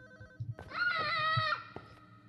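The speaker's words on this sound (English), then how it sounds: "Where is that ringing ding ding going?" A phone rings inside a horror game's house: a single near, bright electronic ring lasting about a second, with faint tonal background hum and brief low thumps before it.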